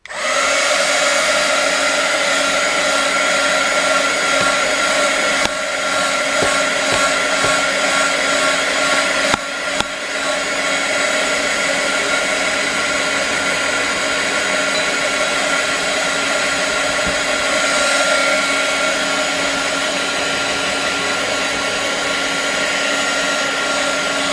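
A hair dryer blows steadily and loudly at close range over an art journal page, a continuous whirring roar with a slight dip near the middle and no talking.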